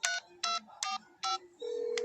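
A telephone number being dialed: four or five short, clean keypad tones in a quick even rhythm, close and clear, ending in a steady tone.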